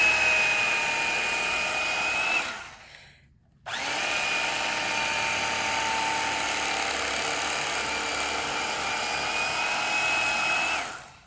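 A small electric motor of an electric carving knife whirs steadily at close range, cuts off briefly for about a second, then starts up again and keeps running.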